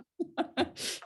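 A short sneeze burst closes out a few quick breathy vocal sounds, close and moderately loud, during a meeting.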